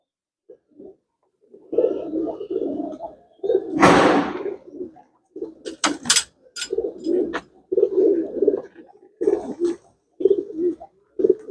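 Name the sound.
pigeons cooing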